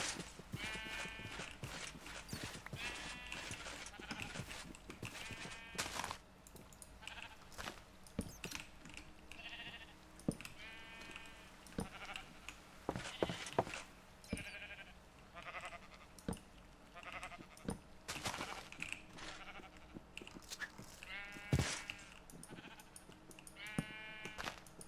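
Sheep in a Minecraft modpack game bleat over and over, several overlapping calls close and clear against a busy backdrop of game sounds, with no talking.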